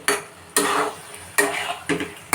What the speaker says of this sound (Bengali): তো আমি ঢাকনাটা খুলে আরও একবার কষে দিচ্ছি যাতে আমার নিচে বসে না যায়